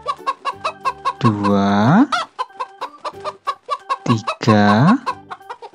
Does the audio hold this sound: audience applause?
no